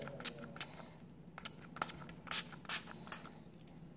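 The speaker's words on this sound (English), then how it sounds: "so I'm just going to spray it again" A few short, soft hissing bursts from a spray bottle onto a Beados bead activity set, at uneven intervals, fairly quiet and close.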